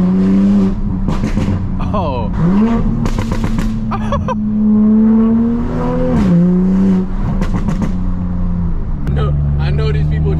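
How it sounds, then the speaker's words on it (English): A Toyota Supra with new lowering springs downshifts and revs, the engine note climbing and dipping through several loud rev blips up close, with someone talking over it. "One last downshift for the boys."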